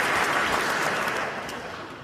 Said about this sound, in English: Thanks for those that cheered.